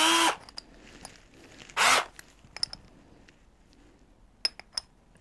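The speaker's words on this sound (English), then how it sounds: "the chuck in this drill wasn't big enough for the drill bit" Two short, sharp whirring bursts come from a power drill with an 11 mm bit held in a chuck too small for it. Scattered light clinks and handling noises follow in a quiet room.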